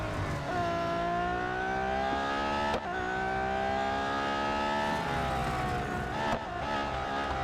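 A race car engine in the mobile racing game Real Racing 3 holds a steady, loud revving whine whose pitch shifts through gear changes, with no talk over it.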